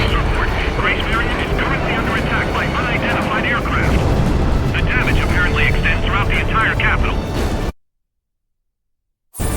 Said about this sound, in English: Focus all anti-aircraft fire on those bombers.